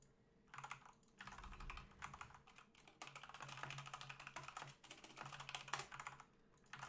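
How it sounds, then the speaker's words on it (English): Rapid typing on a computer keyboard during a StarCraft Terran match, with dense bursts of key taps in quick, uneven runs, close and steady, with brief pauses between flurries. "Excuse me, just as I'm typing."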